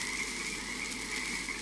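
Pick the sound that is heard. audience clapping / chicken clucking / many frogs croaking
many frogs croaking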